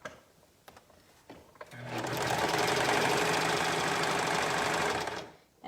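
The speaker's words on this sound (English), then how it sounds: "I'm simply going to sew it right sides together on the short end" A sewing machine stitches a fabric shirt band along its short end, a short pause and a few soft taps followed by a steady, loud, rapid run of about three seconds that stops abruptly, heard nearby without talking.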